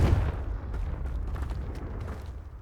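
A Confringo explosive spell going off in Hogwarts Legacy: a loud, deep blast that hits at once, then a long rumbling roar with scattered crackles and debris sounds that slowly fade.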